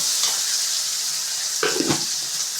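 Onions and tomatoes sautéing in a pan for a dried-fish curry make a steady hiss of frying, with two brief stirring scrapes near the end, close and moderately loud, no talking.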